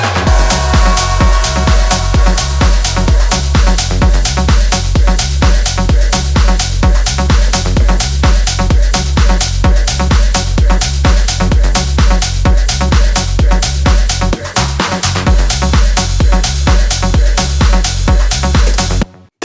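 Full tech house track on Toolroom Trax, driving four-on-the-floor kicks with steady percussion and bass, loud and continuous before ending abruptly.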